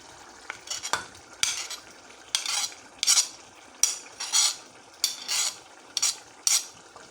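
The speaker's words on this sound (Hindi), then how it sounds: "इसकी थोड़ी भुनाई करते हैं, इसमें सब्ज़ी भी डाल लेते हैं, साथ साथ गल जाएगी" Keema with potatoes and peas fries in a pot as a spoon stirs and scrapes in repeated rhythmic bursts over a low sizzle, fairly close and without talk.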